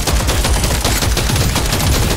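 Rapid automatic gunfire in the video game Deep Rock Galactic Survivor, dense continuous bursts of shots hammering loudly and evenly with no talking over them.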